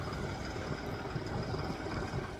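A farm tractor arrives during paddy transplanting work, its engine a steady low rumble and drone at moderate distance, fairly faint and unbroken, with no clear speech.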